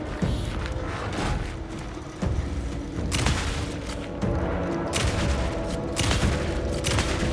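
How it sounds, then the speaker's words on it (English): Shotgun fire in Alan Wake 2, heard as a series of sharp, loud blasts at irregular intervals over a dark, rumbling game soundscape. "Let me get the shotgun."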